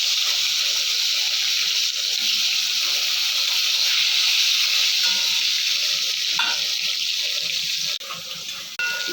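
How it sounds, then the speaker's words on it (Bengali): Eggplant slices fry in hot oil in a home kitchen right after a batch of fish, giving a loud, steady, dense sizzle that runs without a break for the whole stretch and dips slightly near the end. "এখন বেগুনগুলো ভেজে নেব।"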